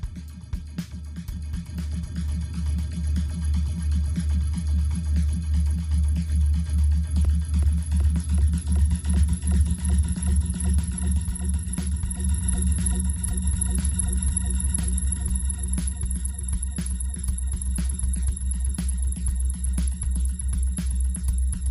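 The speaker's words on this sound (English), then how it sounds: "the delay is fed back onto itself, it's going to get more and more affected by the vocoder" Vocoder-processed delay with high feedback in Reason software, producing a dense, static pulsing drone with rapid repeating echoes stacked over a low sustained hum, steady and continuous throughout with no voice.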